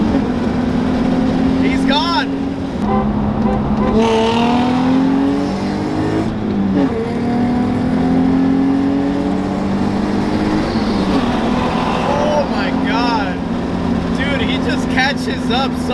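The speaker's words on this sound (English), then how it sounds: "you hear the turbo spool up, and then once you hear it, that's when he's gone" An Infiniti Q50 with a VR30 turbo engine races, its engine droning loud and steady as the turbo spools with rising whines over a constant hum; no voices are heard.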